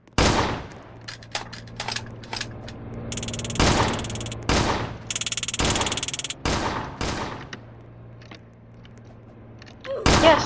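Rapid gunfire in the Roblox emergency-response police game, sharp bursts and single shots crackling in clusters across the scene, some near and loud, others farther off, with brief quiet gaps between volleys.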